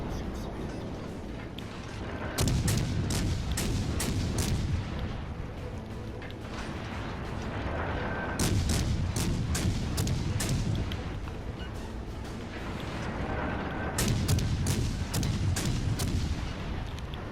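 Naval gunfire in World of Warships Legends: heavy guns boom in rapid salvos, repeated volleys of sharp blasts that come in clusters over a constant rumbling backdrop of engine and sea noise.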